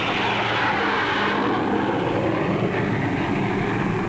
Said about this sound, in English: Huge airliners carry into the sky each day an ever larger tonnage of cargoes and passengers.